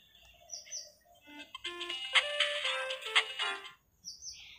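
Background music from the Sakura School Simulator mobile game: a bright, chirpy electronic melody of short tonal notes that swells in the middle and then thins out, with no talking.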